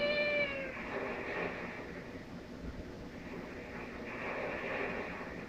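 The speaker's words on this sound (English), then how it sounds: "I wonder if Link was the one that made that meow noise." A cat meows in The Wind Waker during a stealth section, a few high, drawn-out mewing tones at the start over a steady hum of game background sound.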